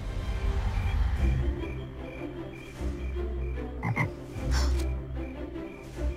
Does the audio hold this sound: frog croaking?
yes